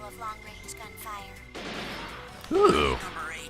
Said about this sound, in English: Trace the sniper fire back to its source.